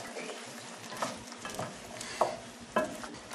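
Breadcrumbs get stirred into a vegetarian chestnut stuffing with vegetarian sausage in a pan, giving soft scraping and a faint sizzle with a few sharper utensil clacks, quiet and close with no talking.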